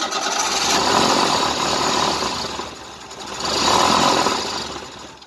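The engine of a 1988 Tennant 255 Series II cranks repeatedly without catching, a loud rhythmic starter churn that swells and fades in two long attempts.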